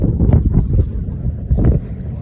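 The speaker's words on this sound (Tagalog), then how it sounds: "Hangin di banda." Low, gusty wind by the sea at low tide rumbles against the microphone in uneven bursts, loud and close, with no one speaking.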